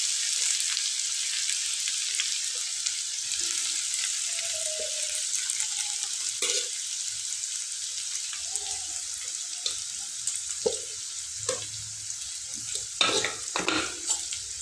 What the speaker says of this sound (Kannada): ಇದು ಒಂದು ಸ್ವಲ್ಪ ಗೋಲ್ಡನ್ ಕಲರ್ ಬರೋವರೆಗೂ ಚಲೋತ್ನಾಗ ಫ್ರೈ ಮಾಡ್ಕೋಬೇಕು